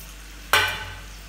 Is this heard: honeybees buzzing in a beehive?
no